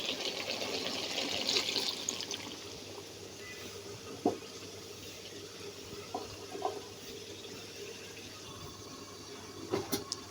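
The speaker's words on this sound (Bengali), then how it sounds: "পানি অ্যাড করব" Water poured into a cooking pot of partly boiled food, a soft continuous splashing fill near at hand, strongest at the start, with a few scattered clinks.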